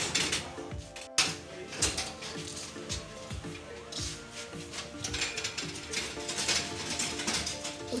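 Printer running at a print shop, with repetitive mechanical whirring, clicking gears and rollers feeding pages in a steady rhythm, fairly quiet and close.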